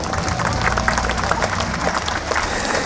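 Concert audience at an outdoor Independence Day celebration on a town plaza giving a loud, sustained round of applause, dense clapping with some crowd noise and cheering mixed in.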